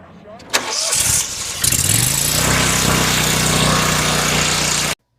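Toro Grandstand HDX zero-turn mower with a 72-inch deck and big block Vanguard engine starting up: a few sharp clicks and cranking, then the engine catches and settles into a loud, steady idle before cutting off abruptly.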